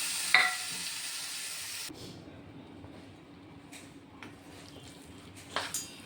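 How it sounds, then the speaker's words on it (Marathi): Khoa (milk solids) sautéed in a pan until soft: a brief loud burst of sizzling and a clink, then quieter scraping and occasional spatula knocks, with no talk. "आपण या खव्याला आता परतून घेऊया सॉफ्ट होईपर्यंत."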